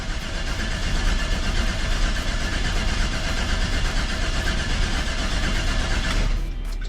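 A 1968 Chevy C20 pickup engine cranks without starting, a steady, loud, rapidly pulsing churn that runs for several seconds and then stops.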